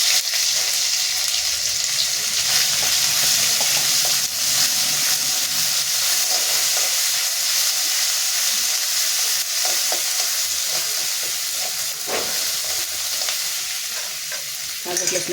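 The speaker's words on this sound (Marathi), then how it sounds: "जिरे टाकले, ते टाकून झाल्यानंतर अद्रक लसणाची पेस्ट टाकूया." Ginger garlic paste drops into hot oil already crackling with cumin seeds, giving a loud, steady frying sizzle with hissing steam and occasional stirring scrapes, close up and without talk.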